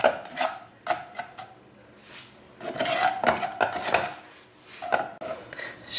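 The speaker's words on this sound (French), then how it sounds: "je vais laisser cuire tout en mélangeant" A utensil scrapes and clatters around a metal saucepan of cooking milk caramel in repeated bursts of stirring, close and fairly loud, with brief pauses between strokes.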